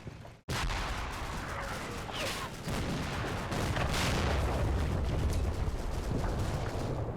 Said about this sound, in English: Oh no, not more of a dreaded German artillery.